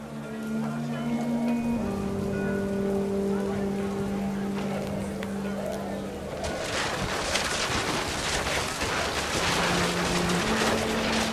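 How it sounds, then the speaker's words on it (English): Heavy rain begins partway through in the video game What Remains of Edith Finch, a dense hiss of drops pouring down over a low droning musical backdrop. "The rain came down in buckets then"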